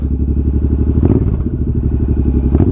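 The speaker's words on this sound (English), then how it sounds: "That throttle response, the torque at the bottom end, but that rumble is sweet." A fuel-injected motorcycle engine runs close by with a loud, steady, deep rumble that pulses evenly throughout, with no talking.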